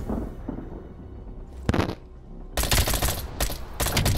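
Rapid automatic gunfire in Black Ops Cold War, a quiet lull broken by a single sharp burst, then loud sustained bursts of shots close up to the end.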